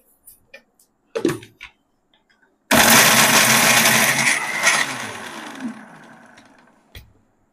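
A kitchen mixer grinder grinds Nalleru chili powder: a few sharp clicks, then a loud whirring roar of about four seconds that gradually winds down, ending with a single clunk.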